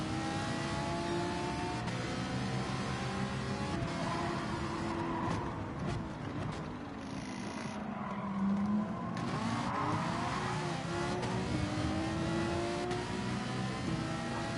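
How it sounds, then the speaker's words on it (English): Continuous racing-car engine roar from Gran Turismo 7 at Suzuka, with revs rising and falling through gear changes and brief tyre noise, steady and loud with no talking. "I can hear the noisy V8 engine of the Ferrari."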